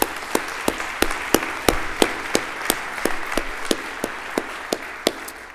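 Slow, evenly spaced sharp claps, about three per second, from a small group or a single person over a quiet room hiss, with no talking.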